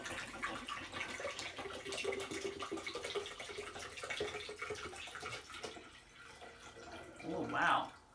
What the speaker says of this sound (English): Let's see, which container holds more? Let's pour.